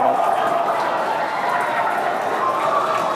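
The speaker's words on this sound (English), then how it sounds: "You're hearing the cheering" A crowd cheers at a SpaceX Starship launch as it makes its first successful hot stage separation, a continuous, diffuse roar of many voices holding at an even level throughout.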